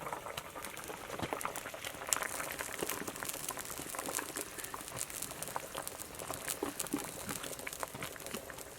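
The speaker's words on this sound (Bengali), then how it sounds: "ঝোলটা ভালোভাবে ফুটে উঠেছে" Fish curry gravy (charapona jhol) bubbles steadily in a pot, with a dense, continuous crackle and pop of boiling liquid that stays even and close throughout, no voices.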